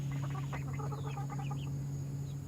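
Backyard homestead hens, the two older birds, give a quick run of soft, rapid clucks under a constant low hum, brief and fairly close.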